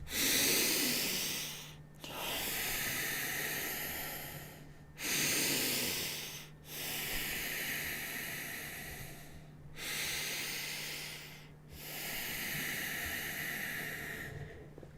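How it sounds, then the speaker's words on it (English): Slow, deep breaths drawn in and let out during a guided distance-healing meditation, each long airy inhale and exhale close and steady, separated by brief pauses, with no talking. "take some deep breaths in, some deep breaths out"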